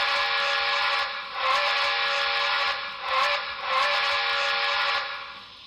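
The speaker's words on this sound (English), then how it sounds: "We're going to start with F9 for the startup sequence." Startup sound sequence of a BLI Commodore Vanderbilt HO scale model steam locomotive, a steady hissing steam whistle tone that swells and dips in several pulses, loud and close with no talk.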